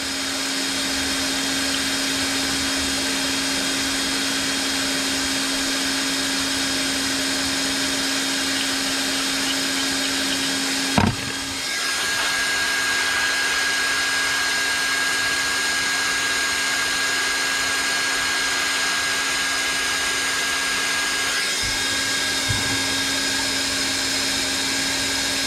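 A heat gun blows hot air over a fishing rod blade during a rebuild, constant loud whirring hum, briefly knocked or interrupted once midway, then running steadily again without talk.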